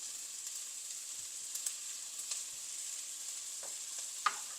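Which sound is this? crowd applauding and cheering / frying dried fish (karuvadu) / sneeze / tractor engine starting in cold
frying dried fish (karuvadu)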